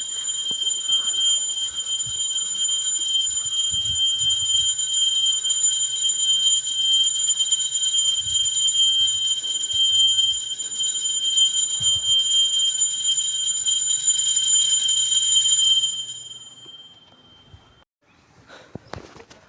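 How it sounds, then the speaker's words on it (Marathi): A bell at a temple at the birthplace of Sant Sevalal Maharaj rings with a sustained, bright metallic tone for about sixteen seconds before fading, with faint rustling underneath. "घंटी आवाज में"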